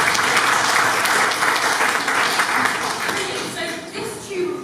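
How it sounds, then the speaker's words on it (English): An audience applauds a student at a geology talk, a full burst of clapping that slowly fades, with some voices mixed in. "Another round of applause for Lucy."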